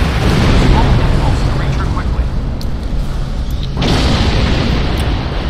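Torpedoes fired at a probe in the space game Star Trek Online make a dense, loud rumble of booms and bursts that fills the whole stretch, with a fresh surge near the end.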